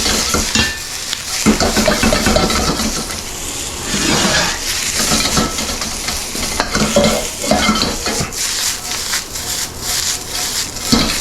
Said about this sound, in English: All right, very hot. Going right in with the onions and scallions.